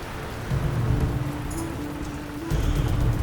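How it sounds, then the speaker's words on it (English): A heavy storm at sea aboard a sailing ship: steady, dense rain hisses throughout, with low thunder rumbles swelling near the start and again toward the end. "This storm just won't stop."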